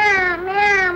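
Child imitating a cat's meow, one close, clear, drawn-out mew lasting about a second with a small dip in the middle.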